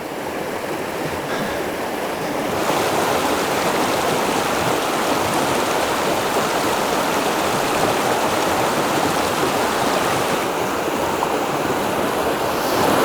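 River rapids rush through a desert oasis stream, a loud, continuous broadband roar of churning water that holds steady and close throughout with no talking.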